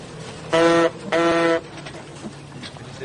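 A 1907 Stanley steam car arrives with two loud, close horn toots in quick succession, each about a third of a second long, over a soft background hum.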